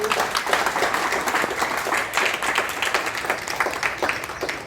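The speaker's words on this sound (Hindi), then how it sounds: "एक जोरदार ताली हमारे गुप्ता अंकल जी को।" Applause for a yoga instructor at a community Yoga Day session, a dense, steady patter of many hands clapping together for several seconds at moderate loudness with no talk.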